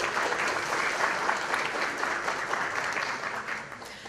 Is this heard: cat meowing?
no